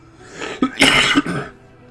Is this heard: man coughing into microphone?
yes